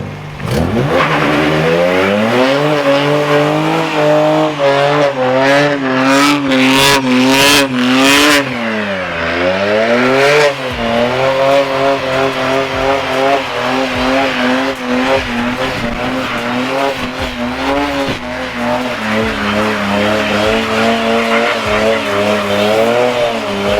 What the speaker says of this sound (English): he will do a burnout for your entertainment